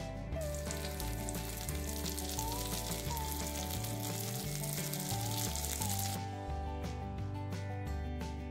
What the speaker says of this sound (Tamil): பன்னீர் சீக்கிரமாகவே ஃப்ரை ஆயிரும்.